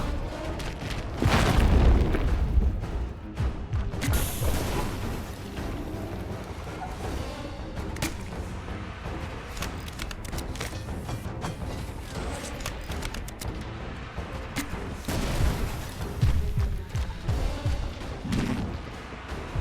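Shooting at coils in the Poppy Playtime video game: continuous loud booming and thudding blasts over rumbling game noise, with heavy impacts throughout.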